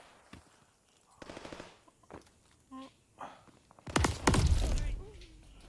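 Gunfire in a Call of Duty Vanguard battle royale match, with scattered shots and then a loud, dense burst of automatic fire, mixed with a voice talking.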